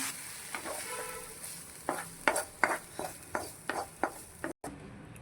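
Masala frying in a kadai, a low steady sizzle under repeated scraping strokes of a spoon that come roughly every half second, close and moderately loud.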